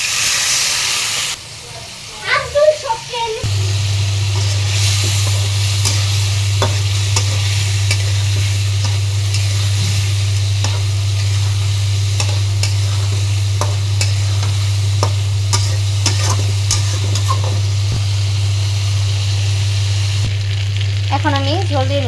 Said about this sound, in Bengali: আমি ইলিশ মাছটাকে ভালো মতো কষাবো একটু সময় নিয়ে।